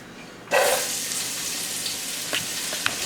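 Thinly sliced yellow and red onions hit hot oil in a preheated pot with a sudden loud sizzle, then settle into a steady crackling fry with a couple of faint clinks, no speech.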